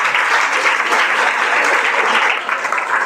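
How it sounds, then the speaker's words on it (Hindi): Loud, dense audience applause at a Hindi Day celebration, steady sustained clapping from a large crowd filling the whole moment with no talk over it. "जोर से तालियां बजाइए।"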